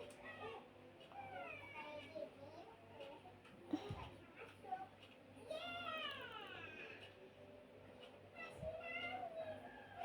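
A cat meows several times, rising and falling whines, under a quiet background with a voice speaking nearby.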